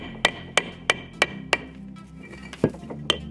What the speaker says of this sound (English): we're gonna use our hammer and cut it